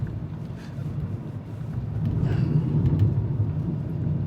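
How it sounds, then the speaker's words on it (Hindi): Skoda Kylaq rumbling over a potholed road, a steady low road and cabin drone that swells in the second half with a few faint knocks, with no talk over it. "ये गड्ढे हैं काफ़ी, गड़गड़ गड़गड़ है, शायद आपको आवाज़ भी सुनाई दे रही होगी"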